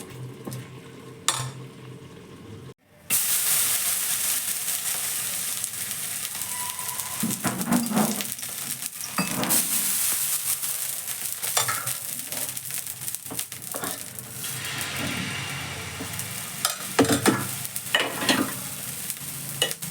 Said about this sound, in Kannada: ಉಂಡೆ ಆಗಿರೋದನ್ನ ನಾನು ಈ ಸೌಟ್ ತಗೊಂಡು ಈ ಥರ ಚೆನ್ನಾಗಿ ನೀಟಾಗಿ ಸ್ಮ್ಯಾಶ್ ಮಾಡ್ಕೊಳ್ತೀನಿ